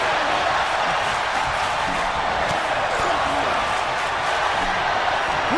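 Arena crowd noise in a wrestling video game fills the whole clip as a dense, steady roar of cheering, with a commentator's voice talking over it.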